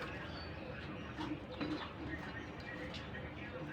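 Native and foreign pigeons sold at a wholesale market coo softly in the background. The low throaty calls are quiet and distant, with faint human voices mixed in.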